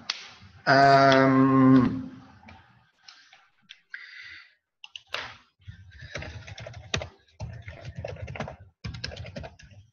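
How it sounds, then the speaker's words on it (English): Keyboard typing on a computer, heard as scattered bursts of quick clicks and taps after a brief loud sung or hummed tone at the start, moderately close with pauses between runs. "I like this game of like typing the things I'm mentioning"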